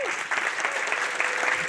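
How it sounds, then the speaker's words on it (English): Conference audience clapping steadily, a broad even patter of many hands in a hall, fairly loud and continuous from start to finish with no talk over it. "so if everyone could give them a round of applause as well."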